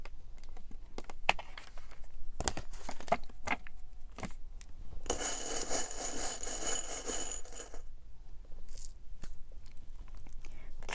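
Tarot cards drawn and shuffled from a deck, a cluster of soft papery flicks and taps followed by a longer brushing shuffle in the middle, close and quiet with no talk.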